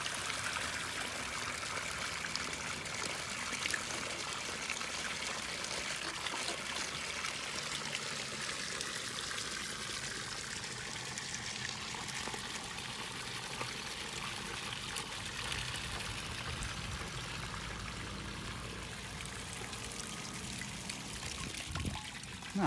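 Water flows steadily along a channel toward the Haringvliet, a continuous broadband rushing and trickling that stays even and fairly close throughout, with no talk over it.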